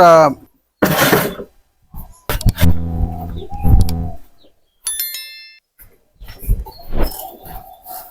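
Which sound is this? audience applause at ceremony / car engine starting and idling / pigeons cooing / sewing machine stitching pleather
pigeons cooing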